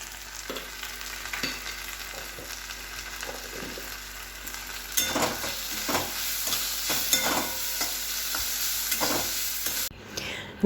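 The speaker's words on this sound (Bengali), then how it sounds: "এবার ভালো করে আমি কষিয়ে নেব" Ghugli snails being sautéed in a pan with ginger paste, chilli powder, turmeric and salt, a soft sizzle under repeated close scraping stirs that grow louder partway through, with no talk.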